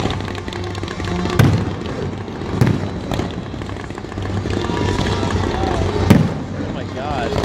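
Fireworks at a 2015 display boom and crackle in scattered bursts, some loud and close, with a steady rumble of distant explosions between them and people chatting underneath.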